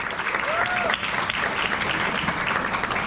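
An audience applauds a commentator and YouTuber at a talk on free expression, a dense, steady wash of clapping throughout with a faint voice briefly over it.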